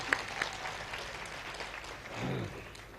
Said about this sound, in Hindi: एक बार तालियां बजाकर मुझे माहौल दीजिएगा